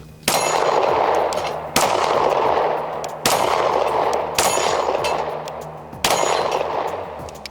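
A Springfield Armory Echelon pistol fires five sharp, loud shots at an even, unhurried pace, each followed by a short ringing decay.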